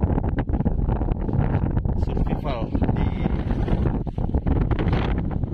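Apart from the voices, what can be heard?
strong wind on a small island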